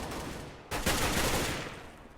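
A single loud AK rifle shot in the Counter-Strike video game, a sharp crack at once followed by a decaying echo tail lasting over a second, heard alone without talk.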